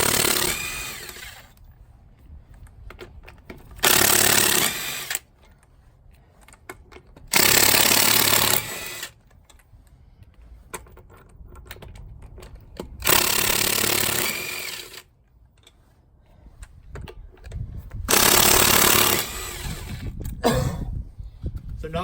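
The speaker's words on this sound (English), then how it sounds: "Okay, now we're going to loosen these lug nuts." An impact wrench loosens the lug nuts on a car wheel that has been stuck for ten years. Loud rattling bursts of a few seconds each alternate with quieter gaps of handling noise.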